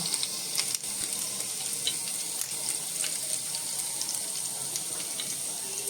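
Finely chopped coriander stems frying in a pan for paneer bhurji give a steady, fairly quiet close sizzle with a few soft crackles and no talking.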